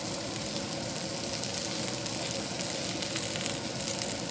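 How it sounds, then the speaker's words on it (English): Mushrooms frying in a little oil in a pan for chicken fried rice, a steady, even sizzle that runs quietly throughout with no talking. "So we're gonna just put a little bit of oil, and I'm gonna start with my mushrooms."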